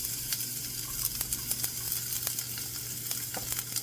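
Chopped onion sizzles in a hot pan for a few seconds, a steady hiss of frying with scattered sharp pops and crackles over a low constant hum, close and fairly quiet, with no voices.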